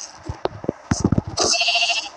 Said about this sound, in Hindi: भेड़ बकरे